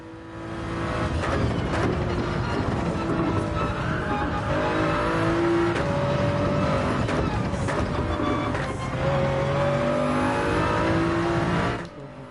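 Race car in Gran Turismo 7 on the Red Bull Ring, a loud continuous engine drone rising and falling through gear changes as it accelerates and brakes into corners, with faint tire noise before it cuts off near the end.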